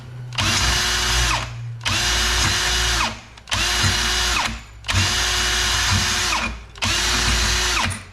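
Jiffy ice auger converted to electric drill power running in five evenly spaced bursts, each a loud close whir that winds up and stops, with brief gaps between and no talking.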